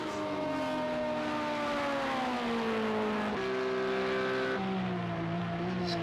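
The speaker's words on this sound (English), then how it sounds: "You can hear the Honda just ahead of him." A Honda race car at the Daytona 24 Hours sim race, its engine a loud sustained whine whose pitch slides down and jumps up with gear shifts, heard alongside other cars.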